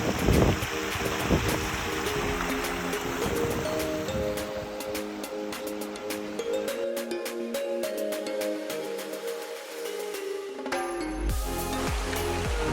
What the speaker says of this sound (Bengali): ঝর্ণার পানির বয়ে আসার শব্দ আমরা শুনতে পাচ্ছি।